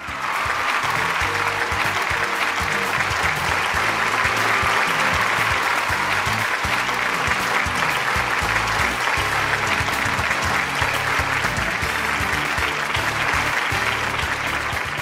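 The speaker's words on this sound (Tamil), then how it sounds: "பலத்த கரகோஷத்தோடு இவருக்கு நீங்க வரவேற்பு கொடுத்தீங்க" A studio audience at a Tamil television court-style talk show gives loud, sustained applause to welcome the Governor of Kerala, a dense, steady roar of clapping that fills the whole stretch.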